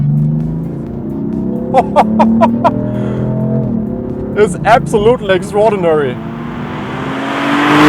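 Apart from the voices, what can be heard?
BMW M4 Coupe F82 engine revving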